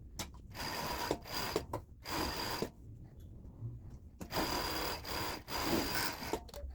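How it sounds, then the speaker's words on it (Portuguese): An overlock serger stitches the inner finishing seam of a three-tier dress, running in loud close bursts of whirring stitching with short pauses and a longer quiet gap in the middle. "Agora eu vou passar o overlock aqui naquela partezinha que vai ficar interna, naquele acabamento."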